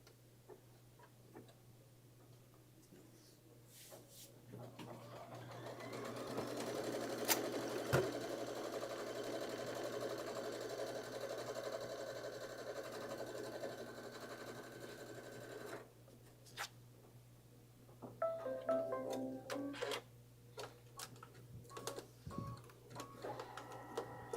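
An embroidery machine runs a placement stitch, a rapid mechanical ticking chatter that builds to a steady drone, then stops and gives way to scattered handling clicks and knocks over a constant low hum, with no voices.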